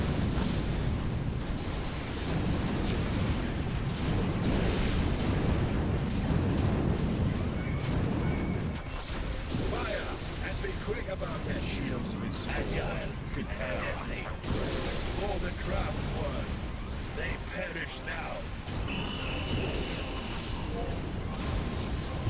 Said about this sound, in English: You can hear there the Sonic Cannon